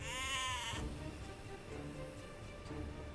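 A sheep bleats once in the Age of Empires II Definitive Edition video game, a loud wavering cry at the start that gives way to quieter game ambience with faint rustling.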